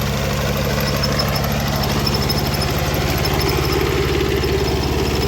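A Kubota tractor engine runs steadily at close range, a constant low rumbling drone with an even mechanical vibration and no breaks or voices throughout.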